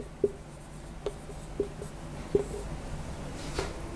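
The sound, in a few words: writing on paper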